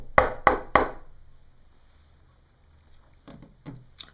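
Three sharp knocks close together in a quick rhythm, followed by a quiet pause and then two softer, duller knocks or thumps, with no talking.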